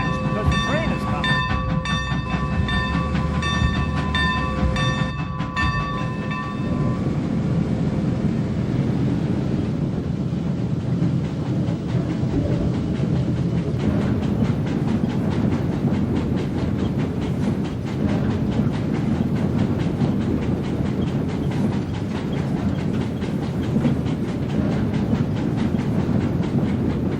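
The California Skunk Train rolls into a small town, its horn sounding in long loud blasts at first, then giving way to a steady rumble and clatter of railcars that carries on throughout, with voices faintly present.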